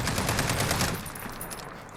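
Rapid automatic hip fire from an MK 17 rifle in Call of Duty Modern Warfare, a dense, loud burst of shots for about a second that then drops to a softer rattle and echo.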